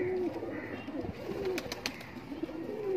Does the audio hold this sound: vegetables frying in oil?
no